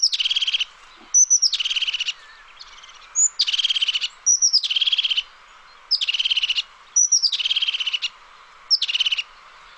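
Forest birds sing a trilled song in repeated bursts of rapid high notes, each phrase about half a second long with short pauses between them. The song is clear and close, alone over quiet background.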